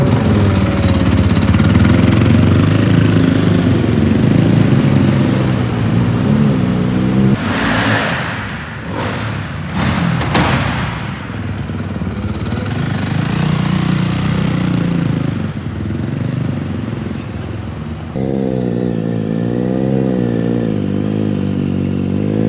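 A go-kart engine runs loud and close with a rough, buzzing drone, surging and dropping as it launches, with brief clatter midway before settling back into a steady throb.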